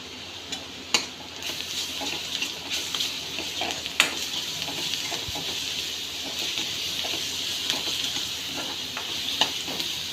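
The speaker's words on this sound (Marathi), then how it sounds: "आता कांदा लाल होईपर्यंत परतून घ्यायचा" Onions for paneer masala sauté in a pan, giving a close, steady sizzle with frequent stirring scrapes and utensil clinks against the pan, and no one speaking.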